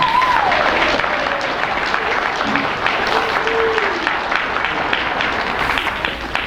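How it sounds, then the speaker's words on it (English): At a fifth-grade school assembly, the audience breaks into sustained applause, a thick wash of clapping from many hands with scattered cheers and voices underneath, loud and steady to the end. "Let's give them one more round of applause."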